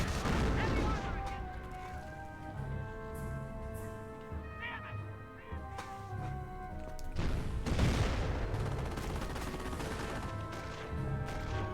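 Grenade explosions and gunfire from the World War II strategy game Company of Heroes 1 boom and crackle repeatedly, loud and dense, beneath steady caster commentary and a musical score.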